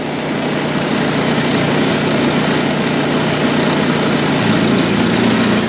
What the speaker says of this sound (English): We can hear a load on the engine now. That's from the compressor engaging.